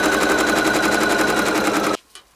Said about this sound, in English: I'm going to go ahead and zigzag this seam to make sure we don't have any fraying.